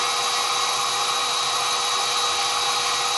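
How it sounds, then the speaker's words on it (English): A high-speed rotary tool polishing fire agate with a feather-light touch, giving a steady, bright, continuous whine that holds unchanged throughout with no talk. "I like to use a high speed, just a feather touch, a really gentle pressure with the final stages of polishing."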